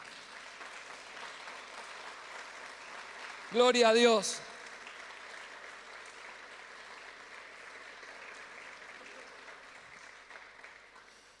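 A church congregation claps in sustained, moderate applause that continues throughout, while a single voice briefly calls out partway through.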